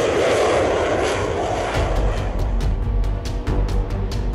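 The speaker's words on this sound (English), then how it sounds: "the throttle is increased to takeoff power, allowing the aircraft to speed up through the runway and climb up to the skies" Military fixed-wing aircraft on a runway at full takeoff throttle, a loud roaring engine rush that swells, then shifts into a steady, powerful drone with pulsing surges as it speeds away.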